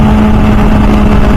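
An MV Agusta F4 Senna's exhaust drones steadily and loudly at a constant engine speed, a dense, even hum with no pauses over the short stretch.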